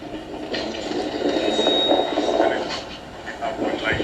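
A freight train runs on a dedicated freight corridor railway line, a loud, steady rumble and rolling rattle of wagons throughout, heard as playback with a little hiss over it.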